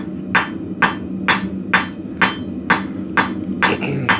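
Hammer blows on hot steel at the anvil as a taper is forged on a shawl pin or leather scribe, nine sharp, evenly spaced strikes about half a second apart, close and loud over a low background hum.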